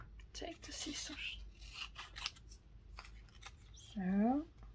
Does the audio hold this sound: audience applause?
no